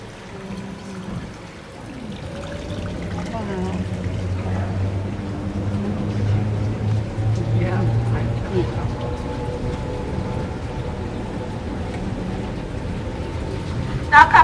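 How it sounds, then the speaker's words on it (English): Water from the Twin Fall flows and trickles through Harrison's Cave in Barbados, a steady, echoing wash of running water with faint voices in the background. "this water here is coming from the Twin Fall and it's making its way down throughout the cave"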